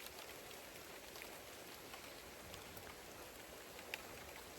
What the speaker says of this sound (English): Got a little bit of rain going on.